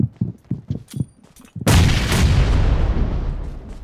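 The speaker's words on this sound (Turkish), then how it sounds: "Bomba attım ona bir." A grenade explosion in PUBG on Erangel, preceded by a rapid series of sharp gunshots, then one loud close blast whose rumbling decay fills the rest of the moment.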